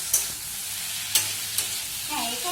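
Ginger, onion and vegetables are stirred in a pan over a low frying sizzle, with three distinct clinks of the spoon against the pan spread over a couple of seconds, close by, and a brief voice near the end.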